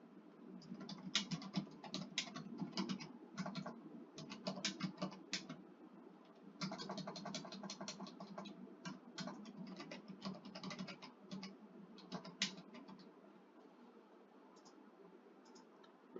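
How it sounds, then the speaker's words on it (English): Computer keyboard typing comes in quick bursts of close clicks with short pauses, steady throughout, no talk. "I'm going to break again to type to my buddy"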